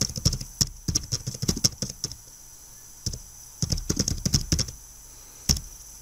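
Keys clatter on a computer keyboard in quick bursts of close, crisp taps, with short pauses between runs and a quiet steady hum underneath.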